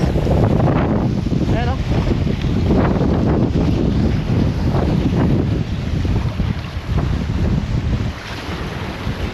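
Strong wind at sea buffets the microphone in loud, gusting rumbles over the churn of waves and a moving boat, continuous throughout with pulsing surges.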